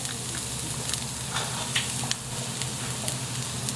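Chopped garlic and onion sauté in a hot pan with browned ginger, giving a steady close sizzle with small crackling pops throughout.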